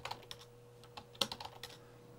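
Someone types on a computer keyboard while working at a Raspberry Pi terminal, giving a scatter of close, light key clicks and taps at an uneven pace.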